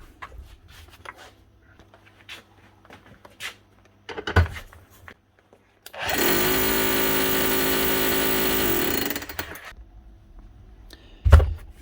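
A Makita HR3210C hammer drill, bought at a tool auction and being repaired, runs in hammer mode for about three seconds with a loud, steady rattling drone. A few knocks and handling clunks come before and after it, and nobody speaks.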